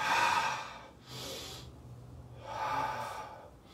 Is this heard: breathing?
yes